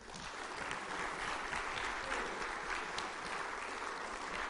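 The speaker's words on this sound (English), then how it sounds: "give a big round of applause for all the inductees for tonight" Sustained applause from a large audience at an Emmy Gold and Silver Circle induction ceremony for the Rocky Mountain Southwest region, a dense, steady clapping roar filling the whole stretch with no pause.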